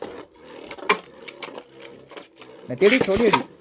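Beyblade Burst spinning tops launched into a plastic stadium, giving quick rattling, whirring clicks and clacks, with a louder burst of clatter near the end as they land and collide, under people talking.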